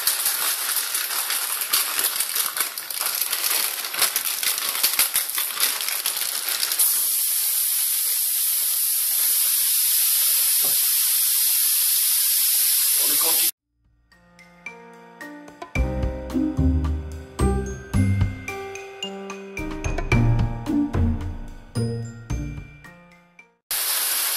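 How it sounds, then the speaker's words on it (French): Bacon lardons hit a frying pan on a gas stove with a loud, continuous hissing sizzle that fills the first half, then cut off abruptly; bright ringing, chiming tones follow. "je vais jeter les lardons dedans et faire cuire mes lardons"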